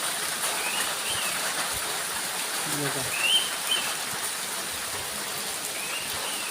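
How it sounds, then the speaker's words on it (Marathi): Heavy monsoon rain falls steadily by a roadside shed, a constant dense hiss throughout, with a brief spoken word and a faint bird call midway. "पाऊस भरपूर पडतोय"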